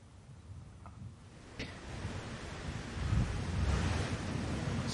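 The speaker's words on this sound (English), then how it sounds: "It's a breeze off the river." A river breeze rushes across an open Dubai golf course, steady wind noise swelling louder in the second half, with a faint tap early on and no voices.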